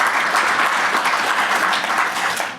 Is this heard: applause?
yes